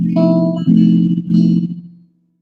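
A clean jazz guitar sounds a few chords in quick succession, and the last, a dominant chord with a major seventh on top, rings out briefly before fading to silence.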